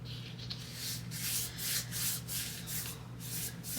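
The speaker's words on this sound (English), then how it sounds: "Hold with one hand and burnish." Glued paper being burnished by hand on a craft project, a soft close rubbing that swells and fades in quick repeated strokes, quiet and without talk.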